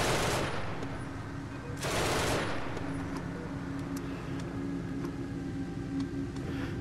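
Gunfire from the video game Genesis Alpha One comes in two loud bursts of rapid shots, one at the start and one about two seconds later, with a low mechanical hum and faint tones continuing in between.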